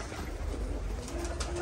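Faint, soft cooing of many Arab pigeons inside a coop, a low murmur of calls under a hushed background with a brief brighter note near the end.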